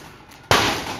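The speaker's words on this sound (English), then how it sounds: "Firecrackers." A single sharp, loud bang cuts in abruptly after a quiet stretch and leaves a bright, noisy tail, like a firecracker going off nearby.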